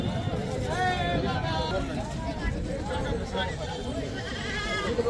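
Several goats bleat in a busy weekly livestock market in Kalamb, Dharashiv, their wavering cries overlapping with constant crowd chatter and nearby voices.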